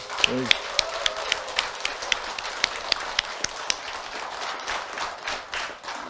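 A large round of applause at a Buddhist university alumni association inauguration ceremony, a steady clapping crowd with a few sharp, distinct claps standing out. Someone speaks briefly near the start.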